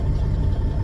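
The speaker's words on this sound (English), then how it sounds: "Hopefully the truck's not too loud." A truck engine idles near Fort Bridger, Wyoming, a loud, steady low rumble with an even throb and no talk over it.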